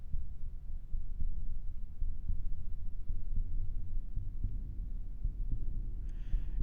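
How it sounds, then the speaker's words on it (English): Low, throbbing heartbeat laid into a music track, a steady muffled thump pulsing under a dim hum throughout, with a short brighter tone surfacing near the end. "a sound of a heartbeat"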